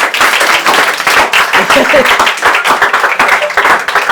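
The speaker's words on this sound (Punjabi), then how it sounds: "ਮਾਰ ਮਾਰ ਕੇ ਤਾੜੀਆਂ ਲਾਓ" Several people clap their hands in a fast, steady rhythm at close range, loud and continuous, with voices mixed in among the claps.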